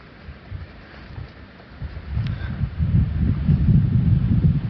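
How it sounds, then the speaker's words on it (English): Wind rumbles and buffets on an outdoor lakeside walking trail, starting faint and growing into a louder, steady low gusting roar over the last few seconds. "You can hear the wind."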